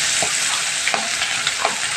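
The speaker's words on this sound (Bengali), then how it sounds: "এবার আমি তেলের মধ্যে এক এক করে সব পাবদা মাছগুলো অ্যাড করে দিচ্ছি।" Pabda fish, rubbed with salt and turmeric, frying in hot oil, a dense loud hiss of sizzling with a few soft spatter pops, very close, no voices.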